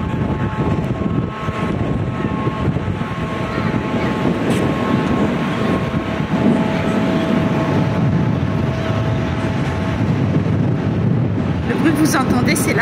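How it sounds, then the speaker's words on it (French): Large Ferris wheel turning beside the sea during a small sandstorm, a continuous mechanical rumble and hum mixed with strong wind buffeting the microphone, steady throughout with faint high clicks near the end. "Le bruit que vous entendez, c'est la roue, hein, la grande roue qui est à côté de nous."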